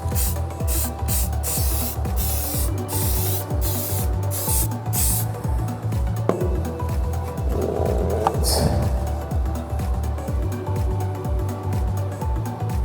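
Primer is sprayed from an aerosol can onto a Spirit Halloween ghost trap in repeated short hissing bursts, close and loud. A longer, softer pass comes midway, and the bursts resume toward the end.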